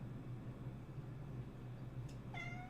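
A single short cat meow rises near the end over a low steady hum, close and fairly clear.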